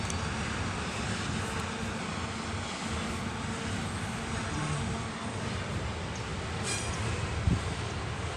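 A coal train locomotive on the Loup Creek Branch Line toward Thurmond, West Virginia, picks up speed with a loud, steady, broadband rumble that holds throughout, with a brief sharper knock near the end.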